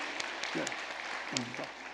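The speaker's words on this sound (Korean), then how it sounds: "감사와 격려의 박수" A burst of clapping from a church congregation, steady for a couple of seconds, with a few voices audible underneath, applauding a choir after a hymn.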